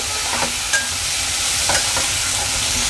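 Pumpkin pieces tossed with masala in a pan crackle and sizzle, with several clear spatula scrapes at irregular intervals; nobody speaks.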